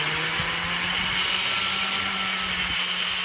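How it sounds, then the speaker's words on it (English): Power drill pre-drilling holes into a wall for a curtain rod, a steady high whining buzz held continuously at close range, loud and alone with no talking. "So I'm gonna pre-drill."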